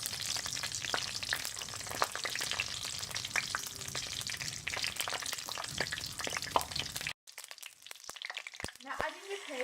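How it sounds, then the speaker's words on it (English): Mustard and other seeds roasting in hot ghee in a pan for Bengali chicken rezala, a dense steady sizzle with crackling pops that cuts off sharply near the end, leaving quieter scattered spatters. "Now you're going to add in your seeds and let that roast between the ghee"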